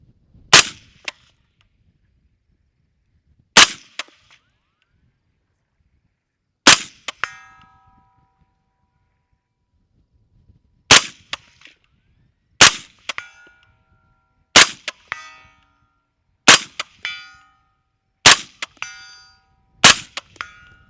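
Rifle shots fired at a full-size steel IPSC target about 150 yards away at night, about nine sharp cracks spaced a second or two apart, several followed by a faint metallic ring, loud with no talk.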